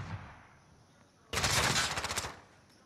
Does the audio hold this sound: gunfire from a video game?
yes